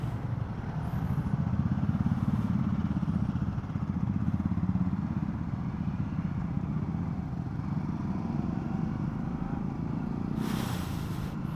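Motorcycle engines drone steadily on an off-road trail in the Kailasagiri Hills near Bengaluru, a continuous close rumble throughout with a brief brighter burst near the end; no talking.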